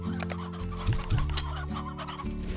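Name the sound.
chickens clucking in a farming video game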